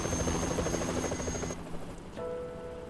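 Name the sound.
helicopter in video game Yakuza 3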